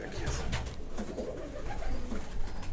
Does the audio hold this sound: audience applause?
no